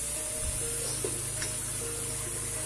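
Tangra fish dropped into hot spiced oil in a pan, giving a steady, loud, even sizzle with a faint bump near the start and no voices.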